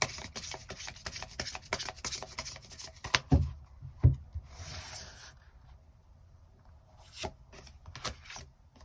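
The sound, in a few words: shuffling and drawing tarot cards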